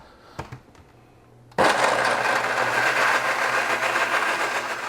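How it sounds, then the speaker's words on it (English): Kitchen blender pureeing strawberries with a little water: after a few faint clicks and a brief quiet, the motor starts abruptly and runs loud and steady with a whirring roar until the end. "I've got some strawberries in a blender here, and we'll just add a little bit of water, and then we'll turn that on and puree it"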